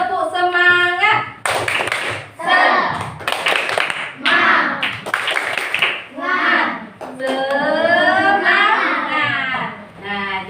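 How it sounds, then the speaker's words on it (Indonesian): A classroom of children doing the rhythmic 'tepuk semangat' clapping chant, short bursts of claps alternating with chanted voices and a teacher's speech in a lively call-and-response pattern. "Ya, kita tepuk semangat."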